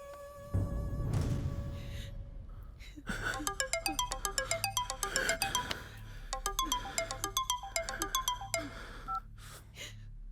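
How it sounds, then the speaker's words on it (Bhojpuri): A phone ringtone plays a rapid repeating electronic melody in bursts after a brief rustle at the start, close and fairly clear. "मेमन भाई अभी मैं उसको फोन लगाता हूँ।"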